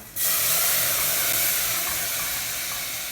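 Milk poured into a hot roux in a pan for béchamel sauce sets off a sudden, loud, sustained steam hiss that fades only slightly over a few seconds, with no talking over it.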